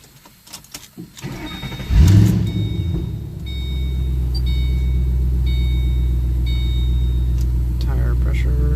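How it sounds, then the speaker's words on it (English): A 2007 Ford Mustang GT V8 cranks and fires with a loud exhaust roar, then settles into a deep, steady idle rumble close by. "these cars have a big sound to them."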